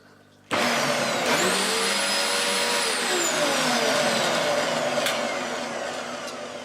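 A Dyson DC04 upright vacuum cleaner, just fitted with a new power switch, starts abruptly and runs loudly and steadily up close, its motor whine rising in pitch as it spins up and then holding, with no talking.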